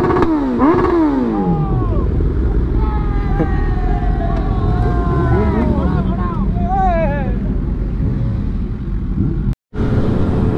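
Many superbikes riding together at night, loud engines revving with rising and falling pitch as they pass close by, layered over wind noise and a constant motor roar, with a brief cut-out near the end.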